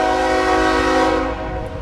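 A CSX freight train hauling loaded ethanol cars, pulled by locomotives 3160 and 294, sounds a loud sustained horn blast that holds steady before tapering.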